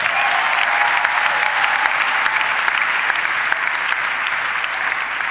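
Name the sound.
congregation applauding and cheering for the Lord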